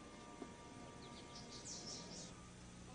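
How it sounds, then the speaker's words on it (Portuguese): Small birds chirp in short, faint, high bursts over a steady background hiss, brief and quiet with no talking. "Ah. Passarinhos!"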